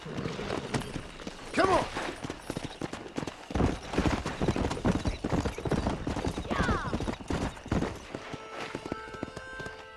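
Horse hooves clip-clop at a quick, galloping pace in the Western video game Red Dead Redemption, with a whinny, creaking tack and someone shouting over the steady run.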